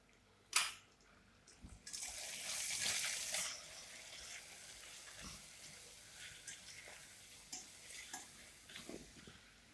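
Spices such as turmeric, chili powder and coriander powder are stirred into a frying beetroot mixture for biryani, a sharp clatter followed by a bright sizzling burst and then quieter intermittent scraping and stirring, close and without speech.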